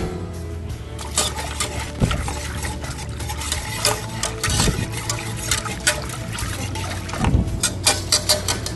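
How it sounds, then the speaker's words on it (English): A spoon stirs brine with a bay leaf and five or six cloves in a pot, sloshing and clinking steadily in a close, continuous swirl with soft liquid trickles. "And we'll go ahead and stir that up."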